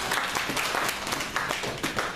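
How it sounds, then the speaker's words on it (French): A church congregation applauds for Jesus, a dense, lively burst of many hands clapping together, steady and close, with scattered voices mixed in. "Acclamons pour Jésus"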